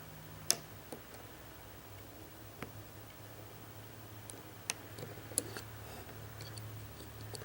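Small, sharp metallic clicks of pins being picked in a lock, sparse and irregular, a handful of faint ticks spread over a quiet hiss with no talking.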